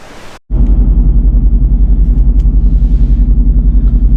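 A Mercedes-AMG GT R Pro engine fires up and settles into a loud, deep, pulsing idle rumble, steady and close, after a brief burst of noise and a short silence.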